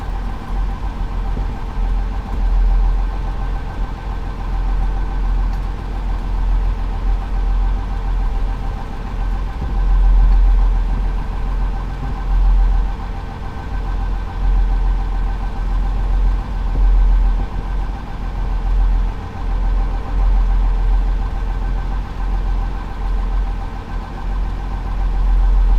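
A 310 horsepower Cummins marine diesel engine on a commercial king salmon fishing boat in Alaska idles steadily, a deep, continuous rumble with constant low throb and mechanical vibration, unbroken throughout with no voices.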